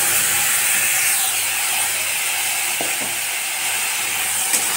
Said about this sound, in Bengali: আলুটা ভাজা ভাজা হয়ে এসেছে। এখন আমি দিয়ে দিচ্ছি পেঁয়াজ বাটা